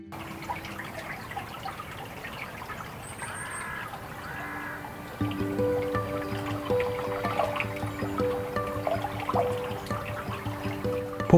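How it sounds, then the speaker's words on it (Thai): A stream flows through the canals of Lijiang Old Town in a steady, soft trickle, with faint bird calls and distant background sounds from the town layered over the water. "พวกเราเดินตามเสียงลำธารสายน้ำที่เลื่อนไหล"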